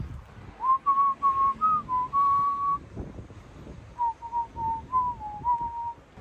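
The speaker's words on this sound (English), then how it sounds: "I feel like I'm the only one that whistles." A person whistles a wandering tune in short melodic phrases with a pause in the middle, close to the mic over faint outdoor wind noise.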